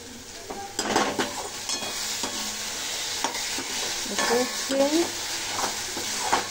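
Potatoes for dim aloo sauté in a pan, sizzling steadily under repeated scraping stirs and occasional clinks of a utensil against the pan, close and moderately loud, with no talking.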